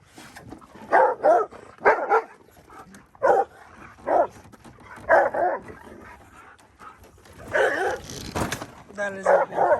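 A dog barks in a garage where an old Can-Am DS650 quad is being pulled out, sharp bursts spaced irregularly across the clip, close and fairly loud, with a person speaking in between.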